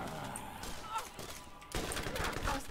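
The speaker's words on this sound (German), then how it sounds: "Ich knall Banditen ab." Bursts of gunfire ring out in the video game Borderlands and sound mixed and fairly distant, mostly under people talking.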